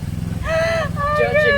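A pet lovebird gives two bright, warbling chirps close by, the second run longer and rising, over a steady low hum.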